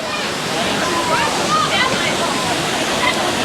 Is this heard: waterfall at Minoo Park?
yes